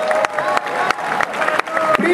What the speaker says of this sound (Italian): facciamo un grande applauso.